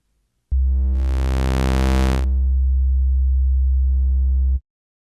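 A synthesizer 808 bass kick patch whose waveform is blended from sine toward square gives a sustained low tone lasting about four seconds, alone and loud, with a bright, buzzy burst of overtones early on before it settles back to a smoother hum.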